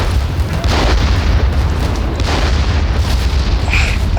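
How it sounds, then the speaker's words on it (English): Artillery strike explosions in a war video game form a loud, continuous rumbling barrage of deep booms, dense and sustained throughout with no clear gaps and no talk. "Artillery strike now."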